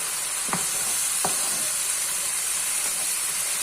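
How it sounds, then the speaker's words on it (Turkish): Pasta stirred in a hot pan for a no-boil mince pasta, with a steady sizzling hiss throughout and two or three distinct scraping strokes of the spoon near the start. "Yaklaşık bir 5 dakika karıştıralım"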